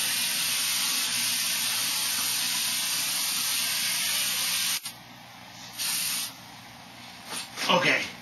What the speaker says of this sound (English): you're going to start misting, lightly misting, back and forth over the whole tombstone